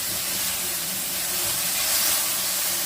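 A medium-sized tomato, finely diced, sizzles in a pan while cooking a Tamil Nadu-style curry, giving a loud, steady frying hiss close up with no talk over it.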